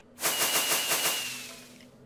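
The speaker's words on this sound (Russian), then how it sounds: "фиговые какие-то фейерверки, они даже не взрываются" A rapid burst of crackling, popping pops fires off in quick succession, then fades with a hissing tail, as Minecraft fireworks launch without exploding.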